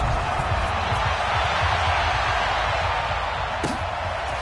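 Steady broad roar of a stadium crowd in an American football video game before a Houston Oilers versus Atlanta Falcons matchup, continuous and loud throughout with a brief sharp accent near the end.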